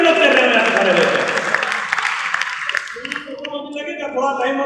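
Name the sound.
audience applause at a comedy show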